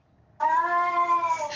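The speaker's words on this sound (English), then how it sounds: "That's a cat about to vomit." A cat lets out a single loud, sustained, strained meow, a retching-like yowl as it is about to vomit. It starts abruptly and holds for over a second, close by and alone.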